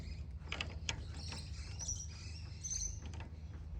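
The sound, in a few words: pinch bar turning Fiat 600 tractor flywheel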